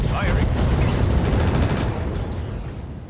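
Sustained rapid minigun fire from a battle mech in a MechWarrior-style game's mechlab match, a dense continuous roar of shots that stays loud across the clip and eases slightly near the end.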